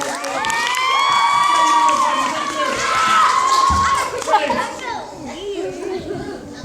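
A young audience at a children's science museum cheers and shouts after a girl's pogo stick demonstration, with high excited voices rising and falling over scattered clapping and chatter.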